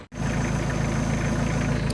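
Tractor engine idling on a field ahead of a ditch crossing, a steady loud diesel rumble that kicks in after a brief gap, close and constant with no talk.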